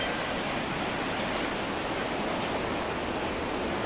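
Water rushing through the Sirhind canal, a feeder channel near Ludhiana carrying water to farm fields, heard as a loud, steady, continuous broadband roar with no pauses or voices.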